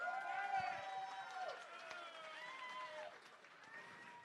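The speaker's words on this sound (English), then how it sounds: "Can you all give Bobby a huge round of applause?" An audience at a charity auction dinner applauds for a donor named Bobby, a fairly quiet wash of clapping with some cheering and overlapping voices, mixed with music-like tones throughout.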